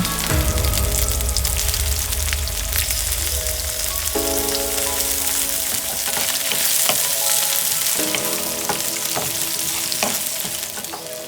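Shrimp fry with garlic in plenty of olive oil, giving a loud, continuous, crackling sizzle close by, with a few faint stirring clicks.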